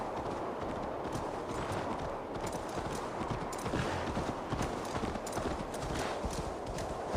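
A horse in the game Assassin's Creed Valhalla gallops with steady rapid hoofbeats throughout, a continuous close clip-clop with faint ambient game sound behind it.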